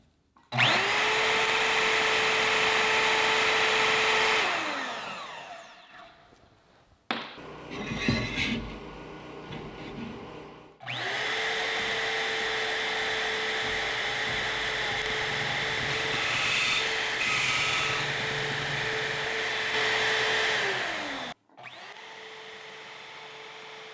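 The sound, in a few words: portable band saw on Swag Off Road stand cutting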